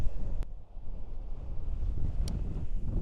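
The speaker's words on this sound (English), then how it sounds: "it's very windy" Strong wind buffets the microphone with a constant low rumble and gusty roar, broken by a couple of faint sharp clicks.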